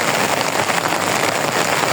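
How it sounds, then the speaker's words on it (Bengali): Steady rain pours down onto a road on a wet day, a dense, even hiss of drops with no break from start to finish and no voices over it. "এখন আবার অনেক দূরে বৃষ্টি আসছে।"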